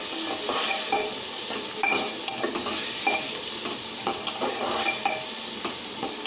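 Chopped vegetables and masala sizzle in a pan for khichdi while a spoon scrapes and stirs in quick, uneven strokes, close and fairly loud, with no talking.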